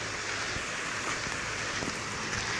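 Rain falls steadily over Manila Bay, a dense even hiss with occasional louder drops and splashes close to the microphone, and no talk.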